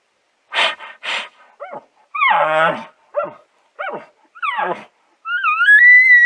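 A human voice imitates a bull's aggressive calls: several heavy, breathy huffs followed by deep, rasping growls and grunts, closing on a longer rising whine. The bursts come in short, separated phrases, close and fairly loud.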